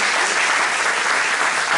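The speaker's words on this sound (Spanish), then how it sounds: "Un aplauso para los estudiantes" Students at Universidad Ricardo Palma are applauded, with loud, dense clapping from a crowd filling the short stretch without pause.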